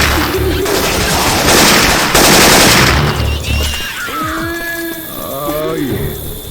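Left 4 Dead 2 gameplay with Syphon Filter weapon sound effects: loud, dense bursts of rapid gunfire that fill the first half, then thinner shots mixed with game voices and tonal effects.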